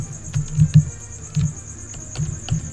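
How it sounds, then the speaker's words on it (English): Crickets chirp nonstop through a livestream, a steady high trill under soft irregular tapping and low thumps, fairly close and constant. "sorry about the crickets. They never stop. They will go forever and ever."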